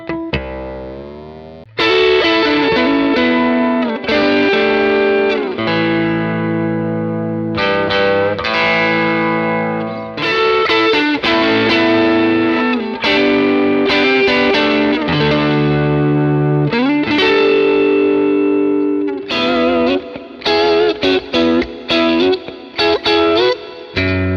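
An electric guitar with new strings plays chords and riffs through distortion and chorus effects, loud and continuous with sustained, shimmering tones.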